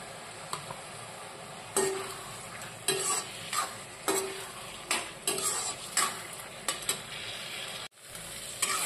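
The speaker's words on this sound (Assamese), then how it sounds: "অলপ লাৰি দিছো" Fish heads being stirred in an Assamese khar with chopped coriander: a spoon scrapes and clacks against the pot in irregular strokes over a soft, steady simmering sizzle, close by, with no talking.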